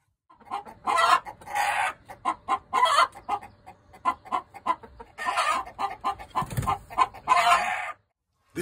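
A cigar box guitar imitates a chicken: a run of short, squawking clucks in bursts, with a brief crow-like phrase, fairly close and alone.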